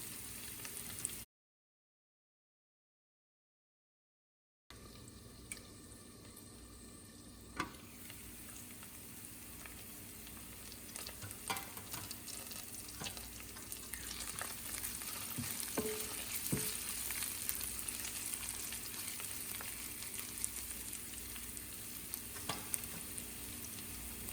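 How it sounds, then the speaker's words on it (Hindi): Steady sizzling of onions frying in a pan for a zucchini dish, a continuous crackle with occasional pops and stirring scrapes, close and fairly loud, no talking. "प्याज को थोड़ी और लाल करनी है हमें, अब इसको मैं फिर थोड़ी देर के लिए छोड़ती हूँ"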